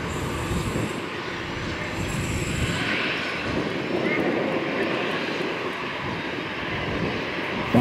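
Brand-new Boeing 777F freighter of Silk Way West Airlines, registration VP-BAA, landing at Tan Son Nhat airport, a loud, steady jet engine roar that fills the whole stretch without pause.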